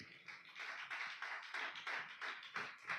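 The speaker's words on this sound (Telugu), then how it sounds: "చప్పట్లు కొట్టు గట్టిగా," A congregation claps hands loudly at a Telugu church prayer service, a steady run of sharp, rhythmic claps repeating about every half second across the whole stretch, with no talk over them.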